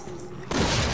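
A gunshot fired in the Resident Evil 6 video game, a single sudden loud blast that cuts in halfway through and leaves a dense, noisy roar, alone with no talk.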